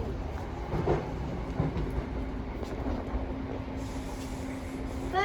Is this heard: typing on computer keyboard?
no